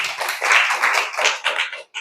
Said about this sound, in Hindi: चलो तालियां बजाओ इसके लिए भी